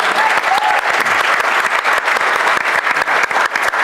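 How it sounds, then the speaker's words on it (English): Audience at a sustainable cocktail talks event applauds a judge being introduced, a loud, dense burst of continuous clapping that stays steady throughout. "Big round of applause"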